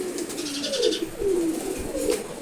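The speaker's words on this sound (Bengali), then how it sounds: "আজকে ধাপের কবুতরগুলো একটু দেখাবো আপনাদের এখানে সবগুলোই নর কবুতর" Male pigeons coo in a loft, several low, rolling calls repeating one after another at close range, alone with no voices.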